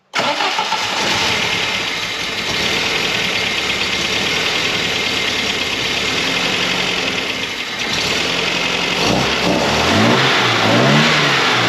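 An MGB fitted with a Sniper fuel injection conversion cranks and catches, then runs at a loud, close, steady idle before the engine revs up in rising and falling swells near the end, with no talking.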